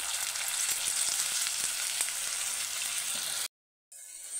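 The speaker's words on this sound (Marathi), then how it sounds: "तांदूळ आता आपल्याला हलक्या हाताने परतवून घ्यायचा आहे छान असा." Washed rice stir-fried with cloves and cardamom in a pan over medium heat: a steady, close frying sizzle with faint stirring taps, briefly cutting out near the end before resuming.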